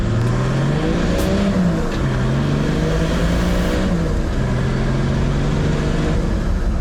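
A modified Toyota Land Cruiser 80 Series engine drones steadily at about 80 km/h, its pitch rising and falling slightly as it shifts, loud and close throughout with no talking.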